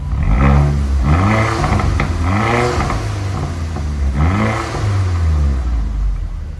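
A remapped VW Scirocco R engine revs up repeatedly, about four rising vroom bursts in a row, loud and close, each climbing in pitch before dropping back.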